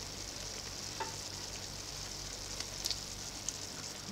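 Seafood paella with rice and broth sizzles steadily on a plow disc, a quiet, even frying hiss with a few faint clinks and pops over a low background rumble.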